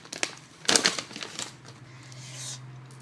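Paper crinkles and tears in several quick, close bursts as a taped-shut letter is pried open, then trails off into softer rustling.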